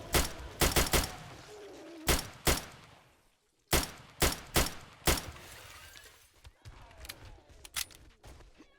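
Gunfire in the zombie survival game 7 Days to Die, sharp loud shots fired in irregular bursts and singles with brief pauses between them, plus some faint background clatter.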